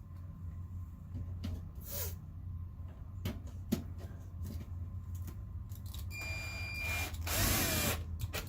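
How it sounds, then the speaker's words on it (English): Power drill driving screws into a soft RV bathroom floor during repair, giving a few short bursts over a steady low hum, with a longer, louder run of drilling near the end. "screw it back together and we'll be done."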